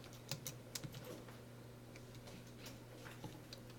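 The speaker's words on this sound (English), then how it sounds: "I'm actually going to type some code above that else." Quiet computer keyboard typing as Python code is entered, a brisk run of crisp key clicks at the start and scattered taps after, over a low steady hum.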